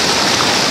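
Turbulent river water at Piracicaba during the fish migration run, a dense, steady rushing roar of churning current filling the short stretch without any voices.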